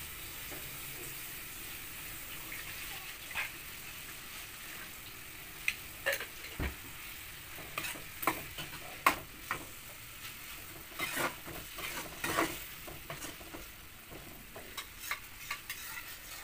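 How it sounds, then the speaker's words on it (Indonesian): Water added to a hot wok of stir-fried anchovies and green eggplant simmers and sizzles under a steady hiss, with scattered clinks and scrapes of stirring, close and moderately loud. "Air tersebut tambahkan ke wajan saja agar menjadi kuah."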